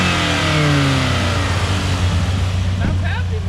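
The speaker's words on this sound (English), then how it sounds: "Give it a little rev ski. Rev it." A built 550-horsepower Audi S3 engine revs up loudly and close, a rising rasping roar that holds steady and eases off near the end, with people talking over it.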